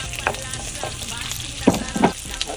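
Onions frying in a pan with garlic and ginger for ginataang labong, a steady close sizzle with a few sharper stirring scrapes and bursts, no talk.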